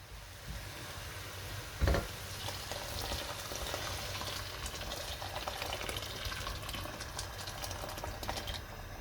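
A steady, hissing pour of boiling water onto couscous, faint and continuous, with a brief clunk near the start and soft bubbling beneath.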